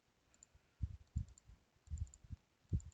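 A computer mouse clicks quietly in several quick pairs, double-clicks spaced apart in an otherwise hushed room, close and faint.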